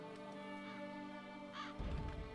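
Crows cawing in Witcher 3: Blood and Wine, a couple of brief harsh calls over humming game ambience, followed by a low thud.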